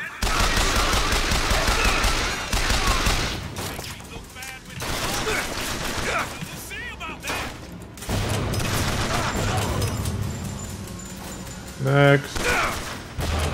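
Gunfire in the game Bioshock Infinite from a slow-firing gun, mixed with heavier volleys and battle din, loud and close, with a brief spoken word among it.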